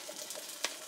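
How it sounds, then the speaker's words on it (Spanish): A small hot griddle heated for Salvadoran pupusas gives a faint, soft sizzle with a couple of brief crackling pops, heard close and without talk. "Ya tenemos la planchita calentando, ya está caliente."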